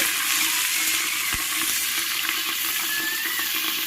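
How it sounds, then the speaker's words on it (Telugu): Onions and green chillies fry in hot oil for vegetable pulao, giving a loud, continuous sizzle with stirring scrapes and one soft knock close by. "ఆనియన్ ఆనియన్స్ అయితే వేసుకున్నాం తర్వాత చిల్లీస్ వేసుకున్నాం ఒకసారి అవి రెండు బాగా కలిపేసుకోవాలి"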